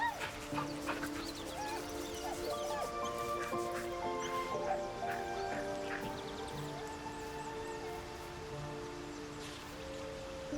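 A dog in the fantasy video game Baldur's Gate 3 whimpers and gives soft barks amid a steady musical game soundscape, with murmured voices in the background.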